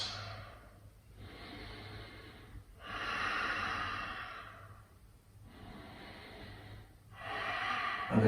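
Slow, deep yoga breaths during a hamstring and hip flow, close to the microphone, with long breathy inhales and exhales alternating in a steady rhythm over several cycles, no talking.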